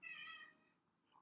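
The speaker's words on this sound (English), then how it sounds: "That's my cat right there." A single short, faint cat meow, nasal and tonal, fading out over about half a second with a slight trailing sound after, heard alone.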